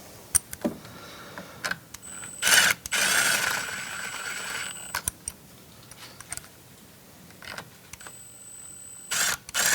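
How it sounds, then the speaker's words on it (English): An electric impact wrench removes bolts during teardown of a Kranzle 1122TST pressure washer transmission, firing in short whirring and hammering bursts of one to two seconds between clicks and handling noises, close up with no talking. "If you're using an electric impact wrench, you definitely want to be light on the trigger."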